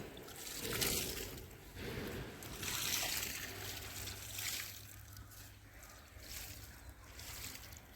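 Water poured over soil in a rooftop garden pot to soak freshly sown okra seeds, a soft, faint continuous trickle and splash with gentle rises and falls.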